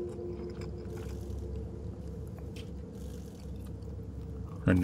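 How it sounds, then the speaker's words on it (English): Chewing in the horror game Fears to Fathom while eating pizza: a continuous low wet munching with soft crunchy and squishy bits over a steady background hum, and a sharper bump right at the end. "we're still chewing. Stop chewing!"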